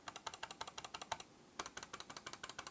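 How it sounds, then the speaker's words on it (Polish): Rapid crisp clicks of the main buttons on a Corsair Katar Elite Wireless gaming mouse in quick succession, about thirty sharp taps with a brief pause midway, close and fairly quiet with no voices. "a tak klikają główne przyciski"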